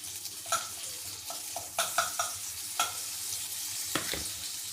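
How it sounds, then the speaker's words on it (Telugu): Butter sizzles in a hot pan while being stirred, a soft steady frying hiss broken by several light scraping and clinking taps of a utensil, quiet and close. "పెనం పెట్టుకొని కొంచెం బటర్ వేడి కావాలి"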